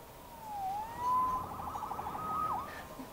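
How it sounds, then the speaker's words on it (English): A police car siren wails faintly in the distance, a thin rising and falling tone drifting over a quiet background. "Saved by the siren."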